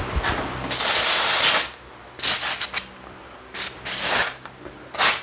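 A power washer sprays in loud, hissing bursts while cleaning a Craftsman machine, with several separate blasts of different lengths broken by quiet pauses.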